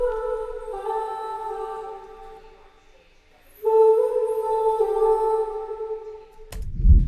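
Hummed vocal line processed with auto-tune, delay and reverb, sustained smooth tones in two phrases separated by a brief pause, with a washy tail and a short low thump at the end; no speech.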